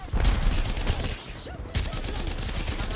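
Rapid automatic gunfire in Apex Legends, dense bursts of shots crackling almost continuously, with a brief lull in the middle before the firing resumes, with talk faintly mixed in.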